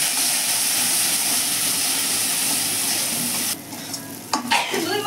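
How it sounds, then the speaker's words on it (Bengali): A spice paste with salt and turmeric fries in a pan for fish curry with ridge gourd, a steady loud sizzle that breaks off near the end into a few scraping stirs. "লবণ, হলুদ দিয়ে মশলাটাকে ভেজে নেব।"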